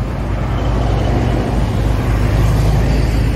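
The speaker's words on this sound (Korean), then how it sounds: "지금 많이 시끄러울 거예요. 차들이 엄청 많이 지나가네요." Steady, loud traffic roar of many cars passing on a busy road in Sangam-dong DMC, Seoul, a continuous low rumble with no voices.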